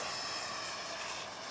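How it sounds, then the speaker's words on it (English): F-15 jet taking off at an airfield, a steady broadband engine roar heard at a distance, moderately loud and unbroken throughout, with no voices. "Now that's an Andy takeoff."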